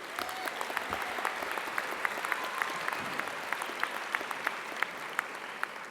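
Convocation ceremony audience applauds a speaker with steady, fairly soft clapping from a large crowd, a few individual claps standing out sharply near the front.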